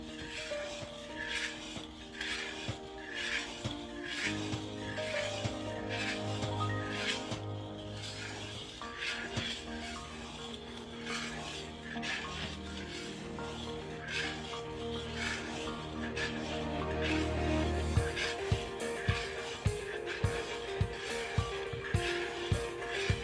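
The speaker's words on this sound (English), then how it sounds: "so just keep on stirring it" Maja blanca, a milk pudding made with fresh milk rather than coconut milk, is stirred in a pot over medium-low heat, making repeated close scraping and rubbing strokes over a low background hum, with sharper regular taps toward the end.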